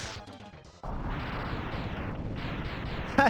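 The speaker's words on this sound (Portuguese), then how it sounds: "Eu fui debaixo dele pra ver a explosão" A defeated boss explodes in Mega Man X, the 16-bit action platformer: a sustained, roaring stream of crashing blasts runs continuously for a few seconds at moderate volume, with no talk over it.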